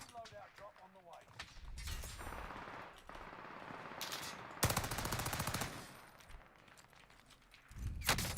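Gunfire in a shooter video game, with several loud bursts of rapid automatic fire and single shots spread across the clip, mixed with other game sounds and some speech.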